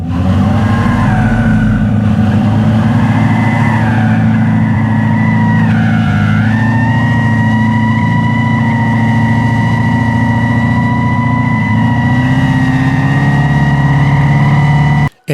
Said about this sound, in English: speeding down this road right here and making that sound with that Proxonic